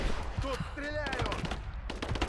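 Bursts of gunfire from the video game Rise of the Tomb Raider rattle at moderate volume amid game audio, with a voice briefly heard over the shots.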